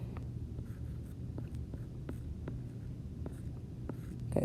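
Pen or pencil scratching out fractions in math notes on the Pythagorean theorem, short strokes tapping at a steady rhythm, close and quiet against a low background hum.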